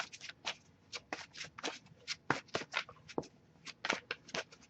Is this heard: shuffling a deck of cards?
yes